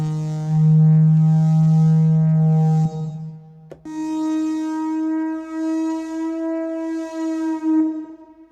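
A deep, loud brassy braam swells and holds, then cuts off; a second rich tone starts and slowly bends upward in pitch, sustained and ringing.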